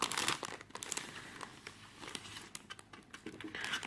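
Plastic packaging of a Japanese candy kit being cut open, with close crinkling and crackling rustles that come in uneven bursts and swell again at the end, with no voices.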